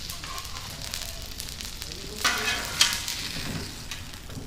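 Egg rolls sizzling in a frying pan, a steady soft crackle with a few louder pops and clatters partway through, close and moderately quiet.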